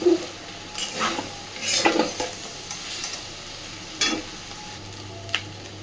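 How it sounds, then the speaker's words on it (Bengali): Fish roe and vegetables are stirred in a frying pan over a flame turned up high. A spatula scrapes and knocks several times in irregular strokes over a soft, steady sizzle. "একটু সময় নিয়ে সুন্দরভাবে মাছের ডিমটাকে সমস্ত সবজির সাথে মিশিয়ে নেব"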